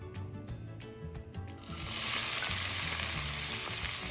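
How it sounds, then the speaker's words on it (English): Diced onion hits hot oil with golden cumin seeds over medium-high heat, bursting into a loud, steady sizzle that swells after a quieter start and then holds evenly, with no talking. "Once the cumin seeds are lightly golden brown, we are going to add our diced onion."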